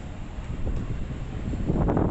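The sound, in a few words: breeze blowing outdoors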